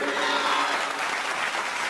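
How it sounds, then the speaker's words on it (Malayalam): Live-show audience applauds at a Malayalam music performance, a steady dense wash of clapping filling the whole stretch at moderate loudness, with no clear voice on top. "ഒരു കയ്യടി കൊടുക്ക്"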